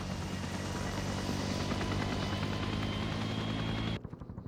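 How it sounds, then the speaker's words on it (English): Helicopters arrive in a Vietnam War survival campaign of a military video game, a loud, steady rotor thump and engine drone that fills the clip before cutting off sharply near the end. "We're going to have to see how these helicopters do."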